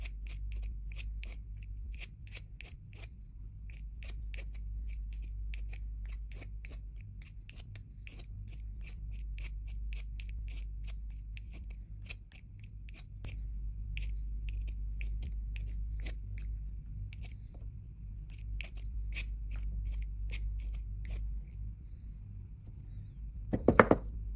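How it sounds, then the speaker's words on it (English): A pencil is shaved by hand with a blade, giving a long run of quiet, irregular scraping ticks over a low steady hum, with a louder scrape near the end. "As you go, keep rotating the pencil to make sure every side is evenly shaved."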